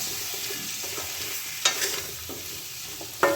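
Greens with a fish head and salt are stirred in a hot pan, a steady sizzle underneath as a spatula scrapes and knocks against the pan in a few sharp strokes.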